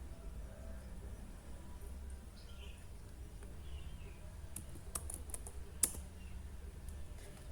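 Faint scattered key clicks as a password is typed on a computer keyboard for a Linux login, a handful of soft taps over a quiet room hiss.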